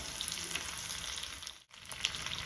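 Dried red chillies and small onions frying in oil make a close, steady sizzling hiss that cuts out for a moment, then resumes with a sharp pop.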